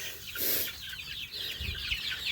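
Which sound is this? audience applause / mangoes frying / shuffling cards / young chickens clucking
young chickens clucking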